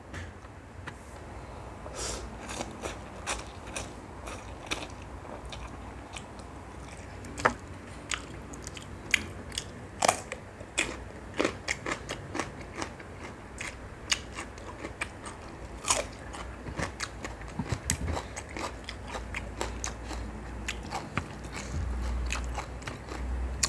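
Someone eats extremely spicy noodles close to the microphone, with wet slurps, bites and chewing. Crunchy, squishy sounds come in irregular bursts over a low background, and no one talks.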